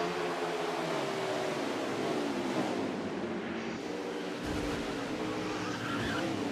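Stock race cars, including the 08 and the 73, roar around Iowa Speedway in a night Cup Series race, a dense continuous engine drone with shifting pitch as several cars pass close by.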